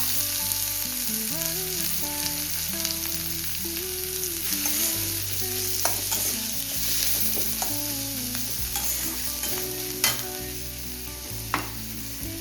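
Onion sautéing with garlic and curry leaves in a pan gives a constant loud sizzle, with a few sharp clinks and scrapes of the spoon, heard close with no talking.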